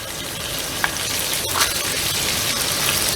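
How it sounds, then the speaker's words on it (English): Garlic and dried chili flakes fry gently in oil in a pan, making a steady, dense sizzle that holds close and even throughout, with a faint scrape of stirring. "we're just going to stir this for a second and let it gently cook until the garlic turns a pale gold"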